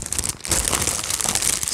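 Plastic bag crinkling steadily while diamond painting drills are packed, a dense continuous rustle throughout with no talk.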